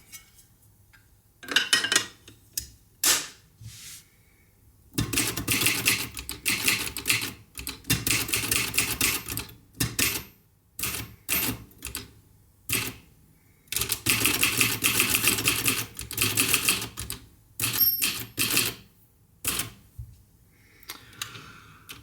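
A Facit TP1 manual typewriter types in bursts of rapid, sharp key strikes separated by short pauses, close and clear with no talking.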